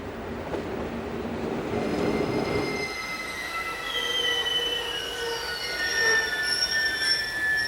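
A train on the Bodensee-Toggenburg Railway in Switzerland rolls over track where the line doubles, its wheels squealing in long, high, wavering tones over a low rumble, with no voices.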